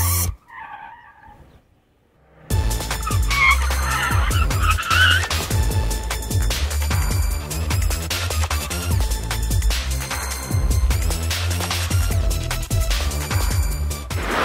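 Tires of a car with worn shock absorbers screech in a long, loud skid through an emergency manoeuvre, the squeal rising and wavering steadily for over ten seconds after a brief quieter lead-in.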